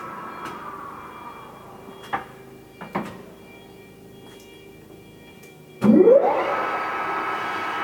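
ACRA-Turn 16"/24" x 40" removable gap bed engine lathe shifted into its high speed range, a steady mechanical hum with a few clunks, then a loud rising whine as the spindle spins up and holds.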